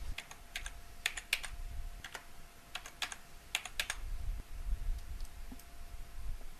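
A password is typed on a computer keyboard: scattered, crisp keystrokes come in small clusters with brief pauses between them, heard close and alone against a faint background hum.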